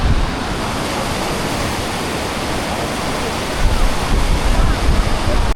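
A waterfall in Yosemite, heard from above, roars in a constant dense rush of falling water, loud and steady, swelling slightly toward the end.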